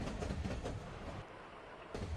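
A Union Pacific train in the Roblox-style rail game Rails of runs steadily, giving a continuous rumbling roll with faint rhythmic clatter, close and moderately loud.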